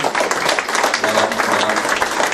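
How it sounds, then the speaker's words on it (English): An audience claps for the runner-up of a snooker tournament at a prize-giving, the dense clapping steady and fairly loud, with voices mingling underneath. "And round of applause for our runner-up, Brendan."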